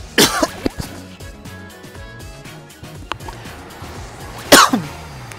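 Several sharp coughs from a person playing an early beta of the platformer Shantae: Half Genie Hero, a burst at the start and another loud one near the end, over steady game music and sound effects.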